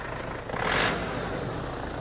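A car engine, one with a timing chain said to rattle on cold starts, gets a short blip of throttle from idle. It swells and settles within a second, close by, with no talking.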